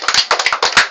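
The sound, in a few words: people clapping hands at a birthday party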